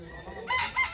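A gamecock rooster at a cockfighting breeding yard crows in a short, bright burst that swells in the second half of the call, close to the listener.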